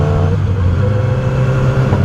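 A 2007 Yamaha R6 sport motorcycle engine holds a steady, loud drone in fourth gear at about 4000 RPM, a continuous low hum with wind rush and no talking.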